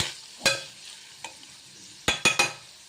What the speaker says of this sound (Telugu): ఇదిగోండి ఇలా వేయించేసుకుందాం